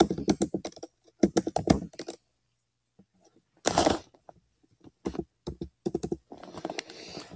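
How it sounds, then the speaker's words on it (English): Password keys tapped on a computer keyboard in quick bursts of close clicking, with pauses between runs and a longer flurry of keystrokes near the end. "I can type the password again"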